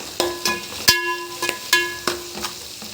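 Ginger-garlic paste with curry leaves fries in hot oil for a chicken dish, with a few sharp metallic clinks of a utensil against the pan over a soft background sizzle, close and without talk.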